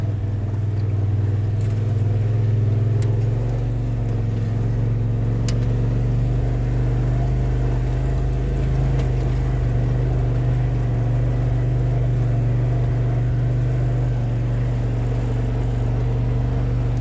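A Polaris RZR XP 1000 Turbo climbs over loose granite, its engine holding a steady, loud low drone and rumble throughout, with no voices.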